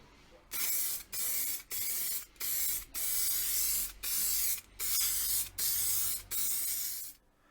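A lacquer finish is sprayed in a steady series of about nine loud, hissing bursts, each roughly half a second long, separated by short pauses, close to the listener.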